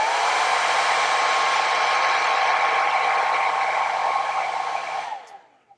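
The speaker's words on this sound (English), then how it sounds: "So we'll give that a quick hair dryer spritz." A hair dryer blows steadily and loudly at close range to dry paint on a Battletech Clan Wolf Mad Cat miniature, running for about five seconds before cutting off and winding down.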